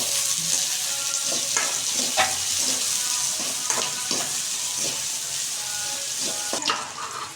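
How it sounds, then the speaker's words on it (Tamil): Onion and green chilli sautéing in a pan for a fish roe fry, a loud continuous sizzle broken by regular scraping stirs of the spatula, close up and with no talking. "வெங்காயமும் பச்சை மிளகாயும் சேர்த்துக்கலாம் நல்லா வதக்கட்டும்"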